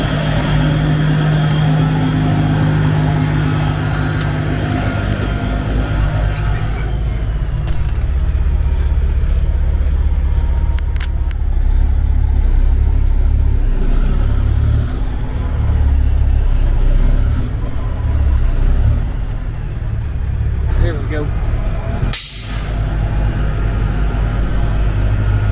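A truck engine idles loud and close, then works harder as it pulls a walking floor trailer forward through blocked-up seed, a steady low rumble running throughout with a brief drop near the end.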